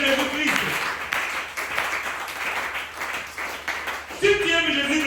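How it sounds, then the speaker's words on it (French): A church congregation at a Thursday worship service claps and applauds for several seconds, the clapping swelling and fading under a voice that speaks at the start and end. "Applaudissez pour le Seigneur Jésus-Christ."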